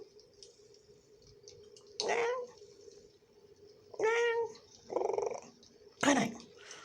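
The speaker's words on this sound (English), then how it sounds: "Meow, meow, meow." A cat gives four short meows spaced about two seconds apart, with a soft steady purr running underneath at close range in a quiet room.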